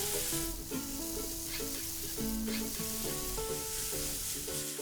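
Frying longganisa sausage sizzles steadily in a pan as cumin, paprika, coriander and chili flakes go in, a continuous hiss with faint stirring under background music.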